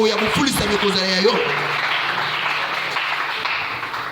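A church congregation applauds and cheers to acclaim the Lord. Voices rise over a loud wash of clapping that fills the space and slowly fades.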